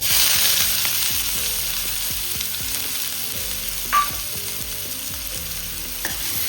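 Medium onion frying in hot oil in a wok, a steady loud sizzle throughout with background music tones, a brief clink near the middle and another faint one near the end.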